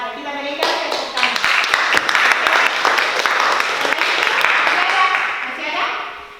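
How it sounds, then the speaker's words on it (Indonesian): A school class gives a round of applause, many hands clapping together loudly and steadily for several seconds before fading, with children's voices mixed in. "Kita berikan tepuk tangan."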